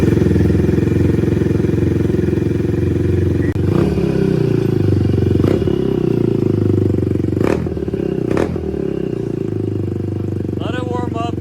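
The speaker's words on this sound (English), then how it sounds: "we're going to go ahead and do a first startup of this bike" A Kawasaki Z125 Pro motorcycle fitted with a 143cc big bore kit runs loud and close in a workshop, idling with a steady throb, a few sharp clatters and blips punctuating it, while voices talk faintly toward the end.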